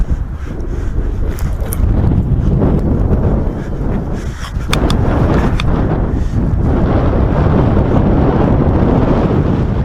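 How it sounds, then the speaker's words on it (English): Strong wind roars steadily across the microphone during a speedwing paragliding flight, a loud continuous buffeting rumble with a brief lull midway, no voices. "Nice strong wind blowing at the moment, perfect for this little wing."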